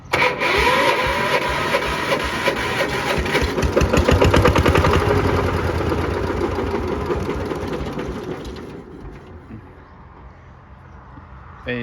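A roughly sixty-year-old Kubota L13G tractor engine starts and revs with a loud, dense mechanical clatter that rises in intensity, then eases back and fades toward idle near the end.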